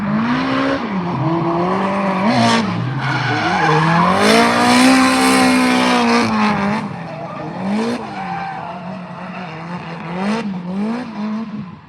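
A drift car at Ebisu Circuit during G1GP practice and qualifying at the Autumn Drift Matsuri in Japan, its engine revving hard with rising and falling pitch while the tires squeal continuously, loud and close throughout.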